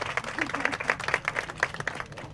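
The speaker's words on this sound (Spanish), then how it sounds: "recibámosla con un fuerte aplauso" A crowd applauds with dense, rhythmic clapping, moderately loud and sustained for a couple of seconds.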